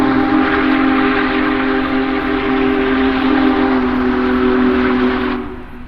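Union Pacific Big Boy steam locomotive running near Granger, Wyoming, its loud steady multi-tone whistle blowing continuously over the rumble of the train before cutting off near the end.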